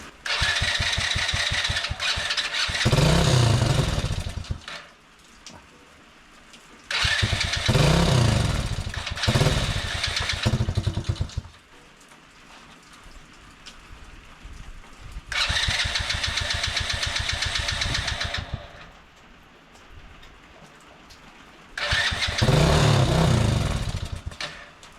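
A motorcycle engine that seems to have a faulty throttle starts and revs in four loud bursts, with quieter idle or pauses between them.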